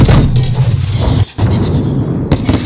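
Grenade explosion in Call of Duty: Modern Warfare (2019) during an embassy firefight: a loud, dense, rumbling blast wash mixed with gunfire fills the short stretch, with a brief dip midway before the roar resumes.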